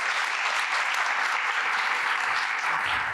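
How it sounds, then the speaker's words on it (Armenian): Sustained applause from a debate audience, even and continuous clapping throughout, moderately loud with no talking over it. "Էլի քիչ էին ծափարությունները երրորդ պնդման անցնելը։"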